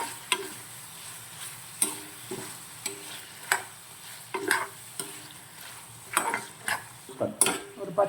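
Goat liver frying in a pan for a pepper curry, stirred in steady repeated strokes; soft scraping knocks recur about every second over a continuous low sizzle, close and moderately quiet, with no talking.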